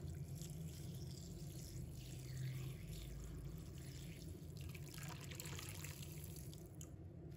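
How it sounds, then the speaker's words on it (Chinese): Warm water, about 40 degrees, poured into a bowl over glass noodles, a faint steady trickling and splashing that runs without a break throughout. "倒入40度左右的温水"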